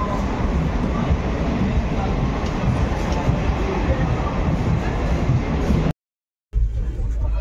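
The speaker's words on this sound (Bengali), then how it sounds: "অনেক প্রতীক্ষার অবসান ঘটিয়ে আমাদের এই ট্রেন চলে এলো।" A passenger train pulls into an Indian railway station on a route toward Kolkata, heard as a loud, continuous rumble of rolling wagons with a brief gap near the end. A faint murmur of people sits under the noise.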